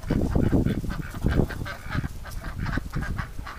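Ducks and geese honking and quacking in a yard, a busy, close flock calling in rapid overlapping bursts that stay loud and continuous.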